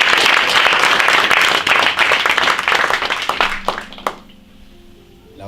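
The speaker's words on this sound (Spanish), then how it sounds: "Denle un aplauso bien fuerte al Señor" A church congregation breaks into loud, dense applause that fills the room, then thins into a few last claps and dies away to near quiet with a faint murmur at the end.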